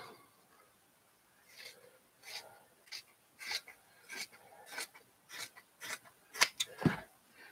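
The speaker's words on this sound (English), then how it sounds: "So what I'm going to do is cut this fabric." Scissors snipping through quilting fabric for an art landscape quilt, a run of about a dozen short, crisp cuts at an uneven pace, close and moderately loud, with a sharper burst of snips near the end and no talking.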